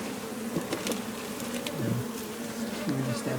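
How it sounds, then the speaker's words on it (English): Several bees buzz close by, their droning pitch rising and falling as they fly around, with no talking. "Lots of bees up here."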